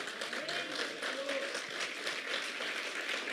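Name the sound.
church congregation applause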